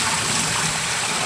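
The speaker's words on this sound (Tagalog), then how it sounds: "buhusan ng tubig ma'am" Water poured out in a steady, continuous rush, a close, even splashing wash that holds at the same level throughout with no voices over it.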